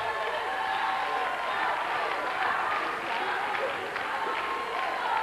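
Studio audience applauding Tony Carreira and Duarte Lima at a televised charity broadcast, a steady dense wash of clapping and crowd noise lasting throughout at even loudness.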